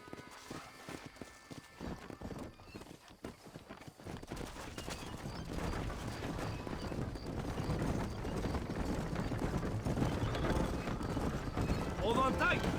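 Horse hooves clip-clopping and running in the video game Red Dead Redemption, a rhythmic trot building under game music and ambient sound, with a steady galloping beat that grows louder toward the end.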